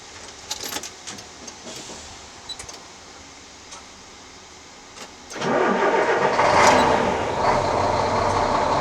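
Faint clicks and rattles give way to the heavy diesel engine of a 2004 Liebherr LTM 1100-4.1 crane, unused for a week, cranking and catching on a cold start, then settling into a loud, steady rumbling idle nearby.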